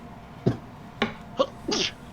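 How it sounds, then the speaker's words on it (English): Sneezing during a tabletop fantasy game session, a short string of four sharp, close bursts, the last one longer and breathier, with no talking between them. "I bit my tongue when I sneezed"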